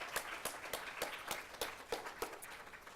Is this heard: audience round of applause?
yes